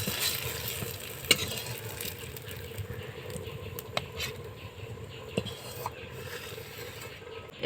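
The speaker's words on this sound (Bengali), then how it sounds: "এবারে এগুলোও আমি একটা একটা করে ভেজে নেব।" Eggplant pieces fry in a pan, cooked a few at a time over gentle heat, giving a quiet steady sizzle with faint stirring clicks and a couple of sharp utensil taps, no voices.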